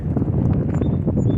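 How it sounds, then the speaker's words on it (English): Strong gusts buffet the microphone in a continuous low roar, loud and close, with no voices. "Sorry about the wind."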